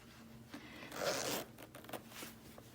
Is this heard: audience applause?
no